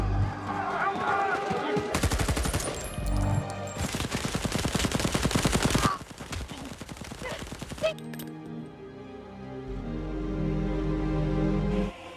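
Bursts of rapid automatic gunfire in an action film scene, loud and dense, with sustained volleys alternating with heavier blasts and score-like tones, no talk over it.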